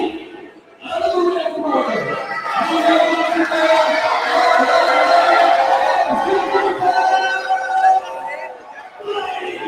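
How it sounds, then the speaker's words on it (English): A dense crowd at a boxing fight night in North Carolina roars and cheers continuously for a hometown boxer, loud and sustained for several seconds before easing off. "You hear that crowd?"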